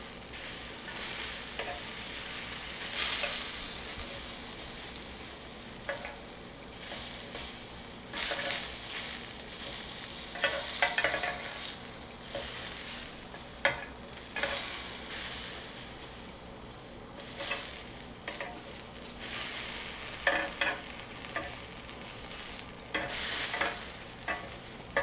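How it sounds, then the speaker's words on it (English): Potatoes being turned in a hot pan over medium-high heat indoors: a continuous close sizzle broken by repeated scraping, stirring bursts at irregular intervals throughout. "We're just flipping potatoes."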